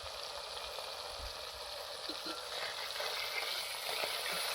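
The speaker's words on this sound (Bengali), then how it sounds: "মাছগুলো ভালো করে ভেজে নেব।" Fish pieces frying in a pan give a close, steady sizzle with a constant hiss and a few faint soft bubbling pops underneath.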